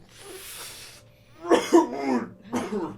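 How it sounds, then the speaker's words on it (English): A person playing a character in a tabletop role-playing game coughs and clears their throat in a nasty-sounding fit: a rough stretch, a pause, then harsher coughs and a final hack, close and fairly loud. "It's a nasty cough you've got going on"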